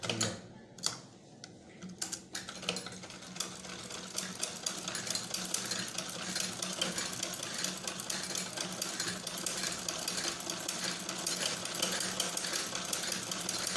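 Electric sewing machine running steadily while stitching a ladies' frock baby collar near buckram, a dense continuous mechanical whir after a few brief starts, close and fairly loud with no talk.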